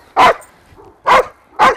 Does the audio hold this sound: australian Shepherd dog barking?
yes